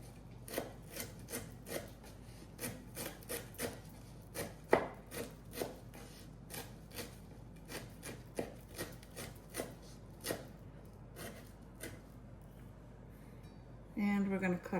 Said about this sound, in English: I'm gonna cut up some parsley so we can garnish this.